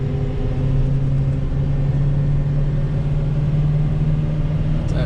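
A 2019 Ford F-750 dump truck engine held at about half throttle, a steady, fairly loud low hum and rumble with no one talking.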